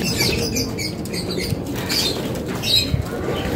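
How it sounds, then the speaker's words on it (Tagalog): Pigeons flapping their wings in a loft, a continuous flurry of fluttering and scuffling close by, fairly loud with no talk. "Dito na yung mga kalapate pala."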